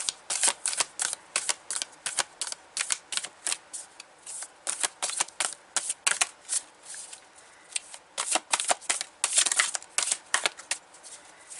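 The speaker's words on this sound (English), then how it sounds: "please don't make cards that are gigantic. It's so hard to shuffle." Oversized tarot cards shuffled by hand: rapid bursts of crisp riffling and flicking in repeated rounds with brief pauses between, close and fairly quiet, no talking.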